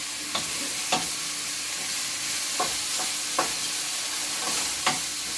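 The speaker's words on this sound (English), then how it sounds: "Just stir fry it." Eggplant and tomatoes stir-fried in oil give a constant soft sizzle, with sharp spatula scrapes against the pan at irregular intervals, close and fairly quiet.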